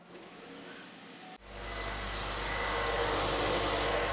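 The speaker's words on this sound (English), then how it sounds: "you should be able to go start the vehicle now" A vehicle engine starts up after a brief crank, then settles into a steady, close idle with a broad rumble that holds to the end, with no talking.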